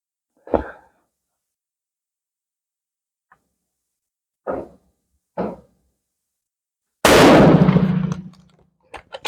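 A handloaded K31 Swiss rifle firing IMR 4064 powder lets off one loud, sharp shot near the end that rings and decays for over a second. A few faint, brief knocks and clicks come before it.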